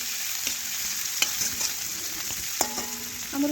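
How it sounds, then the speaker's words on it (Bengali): Chopped onions frying in oil with panch phoron and whole cumin, a constant close sizzle with spatula scrapes and metallic taps as they are stirred. "এখন নাড়াচাড়া করে পেঁয়াজটা একটু লাল লাল করে ভেজে নেব"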